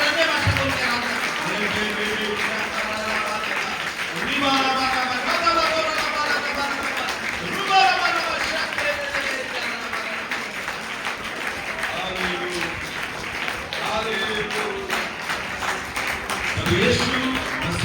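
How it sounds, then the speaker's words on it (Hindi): A church congregation claps loudly and continuously during worship, the rhythmic clapping running beneath loud voices praying and praising aloud for the whole stretch, with occasional swells in intensity. "जोर से ताली बजाएं पवित्र आत्मा परमेश्वर की।"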